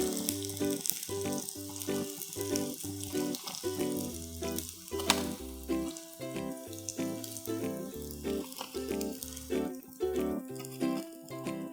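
Prawn patty sizzling and frying in a pan, a steady crackle of hot oil with intermittent sharper pops and scraping stirs throughout.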